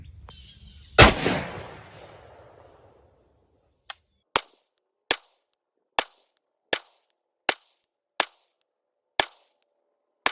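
An IWI Galil Ace rifle firing Federal and Hornady ammunition at an outdoor range: one loud close shot with a lingering echo, then a quiet pause followed by nine sharp, evenly spaced single shots.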